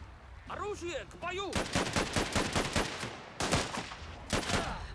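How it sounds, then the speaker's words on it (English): Machine gun fire in the strategy game Last Train Home, heard as loud, rapid, evenly spaced bursts that run through most of the clip, with short voice calls near the start. "the machine gunner will just mow them down"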